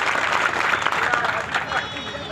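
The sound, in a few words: applause welcoming new party members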